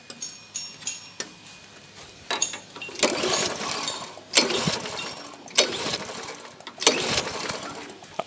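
A Tecumseh Vantage 35 lawn mower engine is pulled over repeatedly in sharp, spaced bursts, each catching briefly and sputtering rather than settling into a steady run, close and fairly loud with no talking.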